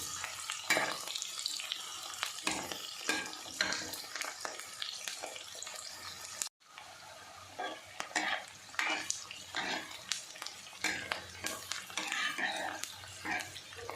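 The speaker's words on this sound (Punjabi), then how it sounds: "ਸਾਡੇ ਪਿਆਜ਼ ਹੁਣ ਫਰਾਈ ਹੋ ਗਏ" Onions fry in a pan of oil for a whole okra curry, with continuous sizzling and frequent clinks and scrapes of a utensil. A brief near-silent gap breaks it midway, then the stirring and frying resume.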